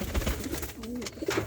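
Capuchine pigeon from a breeding pair in Jamaica cooing in low, wavering rolls, a few soft coos close by over a steady background hum.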